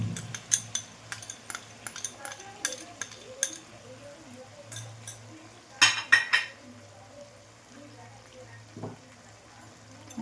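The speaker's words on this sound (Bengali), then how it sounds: "এবার এটাকে আবার ভালো করে কষিয়ে নেব।" Masala being stirred and fried with whisked sour curd in a pan, a scraping, clinking spoon working in irregular strokes over a low steady sizzle, with a louder burst of scraping partway through.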